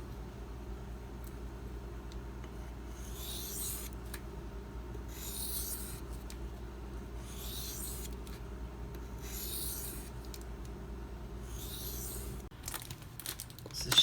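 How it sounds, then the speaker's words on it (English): Kershaw Bareknuckle knife blade drawn across a Shapton Pro 2000 grit whetstone in light burr-minimizing passes, giving four or five evenly spaced soft scraping strokes over a steady background hum. "I'm gonna do a few burr minimization passes."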